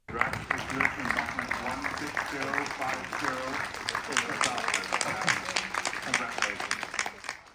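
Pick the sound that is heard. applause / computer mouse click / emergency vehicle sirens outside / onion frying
applause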